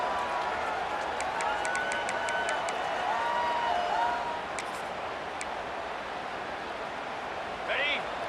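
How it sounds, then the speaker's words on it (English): Stadium crowd noise from a college football video game, a steady broad roar with whistles and faint commentary-like tones, loud and continuous throughout with a brief swell near the end. "this crowd is at fever pitch"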